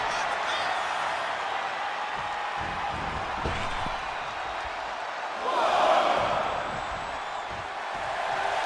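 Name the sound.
wrestling crowd cheering in WWE 2K24 video game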